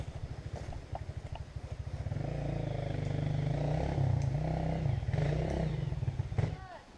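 Dirt bike engine on a hill climb among a Rancher 420 ATV, Dvx400 and Crf230f, puttering at idle then revving up into a rough, rattling drone, moderately distant, with brief voices nearby.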